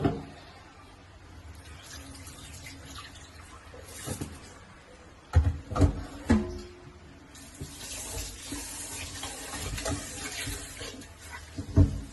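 Rice being rinsed in water by hand before cooking, with steady sloshing and splashing in a basin or pot and a few louder swishes and pours, close and alone.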